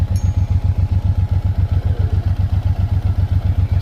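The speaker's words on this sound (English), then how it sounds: "First ride, 0 miles on my brand new Suzuki M109R." Brand-new 2025 Suzuki M109R Boulevard cruiser idling nearby, a loud, steady low rumble with evenly spaced thumping pulses throughout and no voices.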